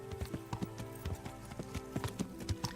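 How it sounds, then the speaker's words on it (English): A horse's hooves clip-clop in a steady, uneven walking rhythm on a road near Neuhof in a video game set in Bohemia. The hoofbeats are moderately close and clear, with no talk over them. "there's just been this random horse sitting on the road since the beginning of the game"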